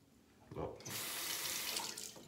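Running tap water rinsing a razor at a sink, a soft trickle that swells into a steady, close splashing stream for the remaining seconds.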